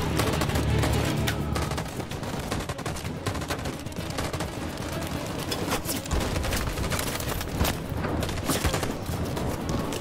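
Covering gunfire in the video game Detroit: Become Human rattles as dense, continuous bursts of rifle and machine-gun fire with occasional heavier booms, loud and close, with no talking.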